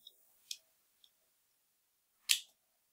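A small empty international-standard ink cartridge clicking into a Maped Reload Premium fountain pen: a few faint light ticks, then one sharper, louder click near the end, with quiet between.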